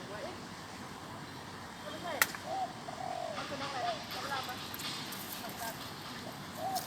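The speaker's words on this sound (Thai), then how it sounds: "วันนี้มาฟังเสียงนกเขาใหญ่ในกรุงเทพกันนะครับเสียงค่อนข้างใหญ่เลยนะครับ" A spotted dove calls in Bangkok with a few soft, low coos. The calls are faint and carried over steady city background noise.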